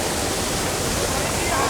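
A waterfall roars with a constant, dense rush of falling water, close and fairly loud, filling the whole stretch without a break.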